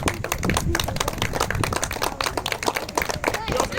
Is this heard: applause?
yes